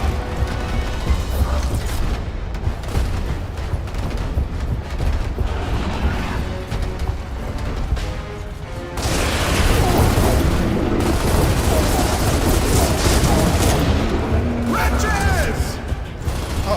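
Gunfire rakes a creature in Gears of War, a sustained loud barrage of booming shots and mechanical clatter with game effects, growing heavier partway through.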